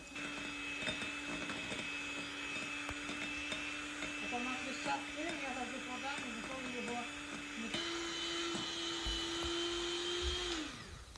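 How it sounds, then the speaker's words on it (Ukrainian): A steady, whirring electric mixer whips egg whites, humming continuously, its pitch shifting slightly partway through, then winds down at the end. "І гарно збиваємо білки."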